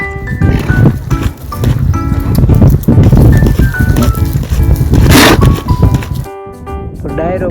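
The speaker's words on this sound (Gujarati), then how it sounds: "આજે આપણે ઘોડો છોડવાનો છે અને આંકવા લઈ જવાનો છે" Horse being led out, hooves clip-clopping on the ground amid a loud outdoor scene with background music and voices, the hoofbeats irregular and close.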